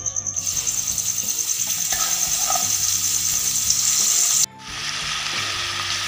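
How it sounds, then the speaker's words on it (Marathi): Ground masala paste frying in hot oil for a Puneri misal, a loud close sizzle with rhythmic stirring scrapes, cutting out sharply near the end and then resuming more quietly. "त्यानंतर त्यामध्ये आपण बारीक केलेला मसाला टाकूया।"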